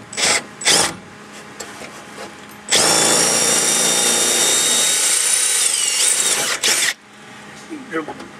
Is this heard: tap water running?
no